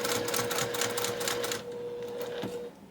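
A sewing machine stitches slowly backwards over a zipper on an embroidered bird-block zipper pouch, giving a steady close mechanical whir with a faint hum that stops near the end.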